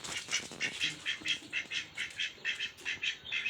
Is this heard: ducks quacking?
yes